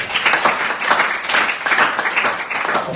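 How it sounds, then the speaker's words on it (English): An audience claps in a room, moderately loud and uneven, with rhythmic bursts of hand-clapping lasting a few seconds and no clear talking over it. "Please give them an applause, please."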